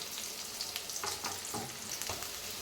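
Mustard seeds and onions fry in hot oil in a home kitchen, giving a steady close sizzle with crackles and pops and a few scraping stirs, and no talking.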